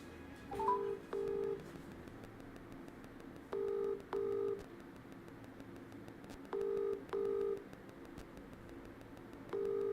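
Outgoing phone call being dialed: short paired keypad tones come in quick bursts, spaced in groups of two, fairly faint against a quiet background.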